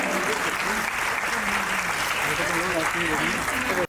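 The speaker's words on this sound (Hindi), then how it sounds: "big round of applauses" Audience applause fills a preschool annual day celebration, a dense steady wash of many hands clapping at full strength for nearly four seconds before cutting off abruptly, with faint voices beneath.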